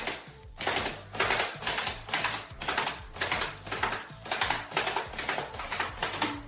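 A gel blaster fires rapid repeated sharp snapping shots into a cheap paper target, shredding it in a steady rhythm, about twelve close, loud hits with brief gaps between them.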